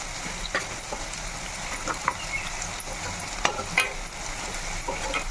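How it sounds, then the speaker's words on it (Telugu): Chopped onions frying in a pan, a steady broadband sizzle with occasional soft stirring clicks and scrapes, close and moderately loud, no talking. "ఈ ఉల్లిపాయ రెడ్గా వేపితేనే బాగుంటుంది"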